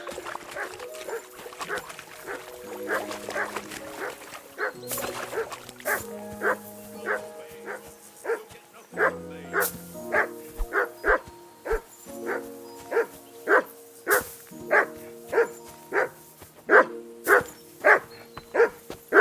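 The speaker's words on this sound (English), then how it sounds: "That barking was a pain in the ass." A dog in the video game Kingdom Come: Deliverance II barks over and over in a steady, insistent rhythm, loud and close, over a faint background hum.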